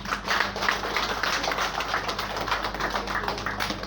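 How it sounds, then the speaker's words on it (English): Steady, dense pattering applause from a gathering of university staff at a ceremony, continuous and fairly soft, heard from some distance without talk over it. "please let's give ourselves a resounding applause"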